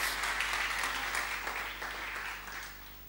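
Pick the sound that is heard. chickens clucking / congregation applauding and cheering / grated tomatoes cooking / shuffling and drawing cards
congregation applauding and cheering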